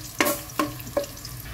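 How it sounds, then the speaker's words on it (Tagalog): Garlic sautéing in hot oil in a frying pan for pork kaldereta: a soft, steady sizzle with three sharp utensil scrapes against the pan, roughly evenly spaced, close and moderately loud. "Gigisahin lang ang bawang mga kajuit at antayin hanggang sa ito ay mag golden brown."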